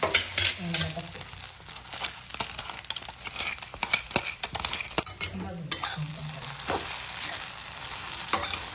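Steamed sabudana khichdi being mixed in a pan, repeated scraping and clinking spatula strokes over a low sizzle, fairly close, with no talking.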